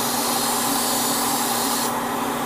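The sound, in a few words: airbrush spraying paint on Gundam model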